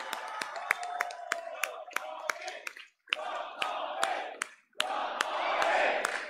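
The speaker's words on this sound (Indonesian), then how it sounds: "Kita berikan standing ovation," A large crowd at a political party rally gives a standing ovation, dense clapping mixed with cheers and shouts, continuous and loud apart from two brief pauses.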